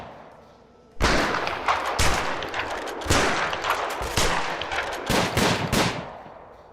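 Gunfire from the video game Prison Architect bursts in after a quiet second, with rapid rattling volleys and single sharp shots in uneven clusters, loud and close, with no talk over it.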